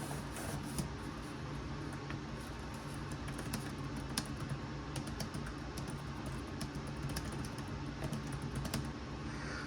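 Typing on the keyboard of an HP 14 budget laptop (14-EP2012WM): a steady, continuous patter of quiet, close key clicks lasting throughout, with no talking.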